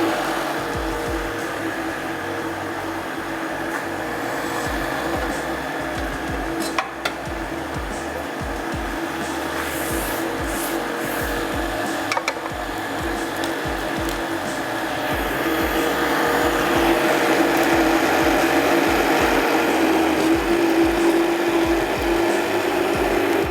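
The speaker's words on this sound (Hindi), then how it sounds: "थोड़ा सा इसको और ब्लेंड करेंगे" A blender runs steadily on a mango moong daal mixture, a continuous close motor whir that grows slightly louder toward the end, with no talking.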